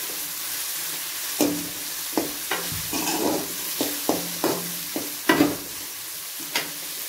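Curry leaves hit hot oil in a pan for an idly egg fry masala, crackling and sizzling in sharp bursts over a low steady fry, with occasional stirring clatter close by.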